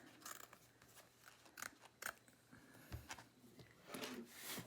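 Scissors snip through thick water-soluble embroidery stabilizer held in a hoop, giving a series of short, close crisp cuts and rustles at an uneven pace with no talking.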